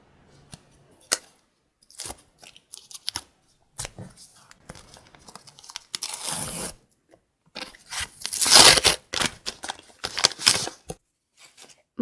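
A paper surprise packet is torn open up close, with scattered crinkles and snips that build into louder ripping and rustling bursts toward the end.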